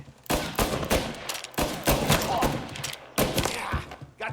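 Rapid bursts of automatic gunfire in a Mafia video game shootout, loud, close sharp volleys in several clusters with brief gaps between them, no talking.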